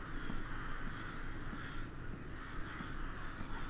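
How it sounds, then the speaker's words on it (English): Several crows caw over a dark ambient drone in the PS4 horror game Rise of Insanity, the calls recurring steadily and sounding somewhat distant, with no talking. "The crows are calling."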